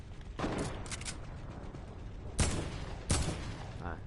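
A teammate's gunfire in the Fortnite video game: a few quiet shots early on, then two louder, sharper reports about a second apart over a low background of game sound.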